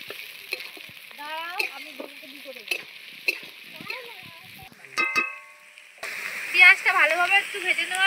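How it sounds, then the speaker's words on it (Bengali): Chopped onion dropped into hot mustard oil in a wok over a wood-fired clay stove, a bright sizzle rising late, with birds chirping and a voice talking earlier. "তেলটা গরম হয়ে গেছে, এবার দিয়ে দেবে পেঁয়াজ কুচি।"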